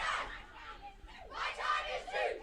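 Spectators on the sidelines of an under-13 rugby match cheering and shouting, a lively crowd of young voices in bursts, with a brief lull in the middle.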